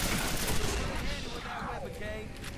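Shotgun fire in the video game Quake 4 over dense sound effects from play, with gun blasts and a rumbling mix packed together, loud and continuous rather than clearly separated.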